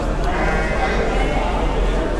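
Pregnant Merino sheep bleat amid a steady, noisy crowd of livestock at an animal sale, with people talking over and around them throughout.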